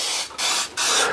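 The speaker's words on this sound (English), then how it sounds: "fryer is they spray with a cooking spray" Cooking spray from an aerosol can is squirted into a Farberware oil-less fryer oven in three quick, close hissing bursts with brief gaps between them.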